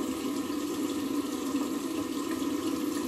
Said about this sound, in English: let me apply some water a little bit and then we see how it comes off